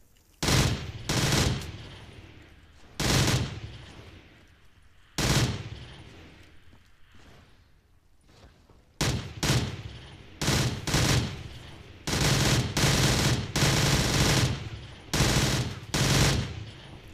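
A loud automatic gun fires in repeated bursts in the Black Ops 3 Zombies video game, with sharp rapid volleys separated by short pauses, growing denser toward the end.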